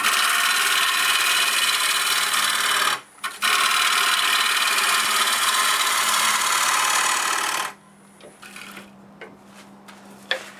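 A catalpa bowl spins on a wood lathe as the tool cuts, giving a loud, steady scraping hiss for about three seconds. After a brief break the cut resumes for several more seconds, then stops, leaving scattered light knocks.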